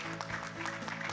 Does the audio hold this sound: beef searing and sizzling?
no